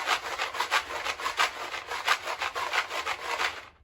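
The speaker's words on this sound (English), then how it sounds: "I also found this box of macaroni and cheese. To me, it sounds like a maraca." A cardboard box of dry macaroni and cheese shaken like a maraca gives a soft, gritty rattle, a rapid rhythmic swish of pasta against cardboard, fairly quiet and close, with no talking.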